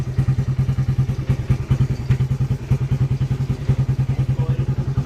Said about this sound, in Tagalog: Ayan si Bayo, paalis na kanyang motor